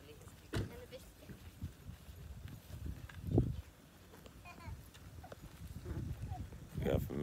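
Horses walk along, their hooves clip-clopping in an uneven series of sharp knocks at varying distances over a rustling background, with a few louder thumps standing out.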